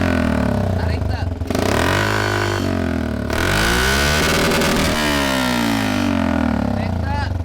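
A motorcycle engine revs repeatedly, sharp rising bursts and drops with brief pauses, loud and close, with people talking and reacting over it at a school visit.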